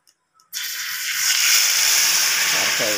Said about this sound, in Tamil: ஜீரகம் பொரிஞ்சிச்சு